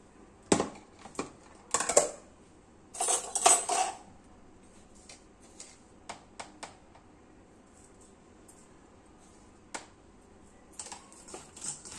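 A spoon scrapes and clinks against a bowl while puffed rice is tossed with lemon juice, red chilli powder and salt, in sporadic short bursts with quiet gaps between them.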